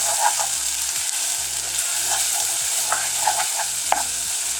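Onions for chili fry in a pan, a loud steady sizzle with a spoon stirring and tapping intermittently throughout.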